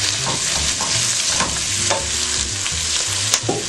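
Dried beef with sauce being stirred and sautéed in a pan for penne with carne seca, calabresa and bacon: a continuous close sizzle with repeated scraping stirs of a spoon.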